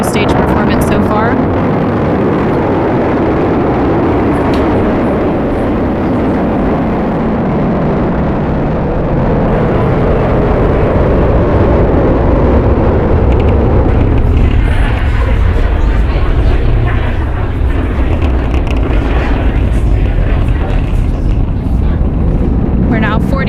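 Falcon 9 rocket carrying Crew 10 climbing after liftoff, its engines a loud, continuous broadband roar with wind-like rumble that shifts and crackles partway through, with no voices over it.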